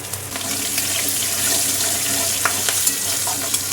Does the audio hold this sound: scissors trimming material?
no